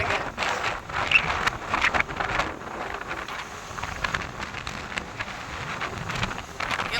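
Strong storm wind at sea buffeting a fishing boat, gusting rushes and flutters with rain-like spatter, rising and easing in uneven waves throughout.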